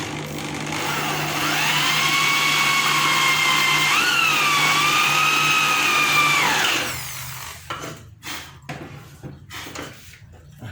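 A power drill bores into a wooden door frame during installation of a fixed door panel, a loud steady whine for several seconds that shifts pitch midway, then stops, followed by scattered knocks and handling noises.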